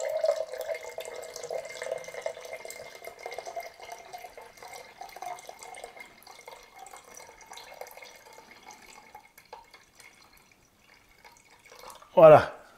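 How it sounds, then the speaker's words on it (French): Vinegar pours into a chili sauce in a light, running trickle that fades over several seconds, with a quiet voice talking underneath and a brief louder knock at the end. "D'abord le vinaigre. Donc, je vais rajouter en tout cas 3 décis, puis on va goûter."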